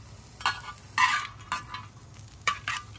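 Chicken fried rice veggies being stir-fried in sesame oil on an outdoor fire disc: scraping, sizzling stirs come in several short bursts over a low steady hiss, close by, with no talking.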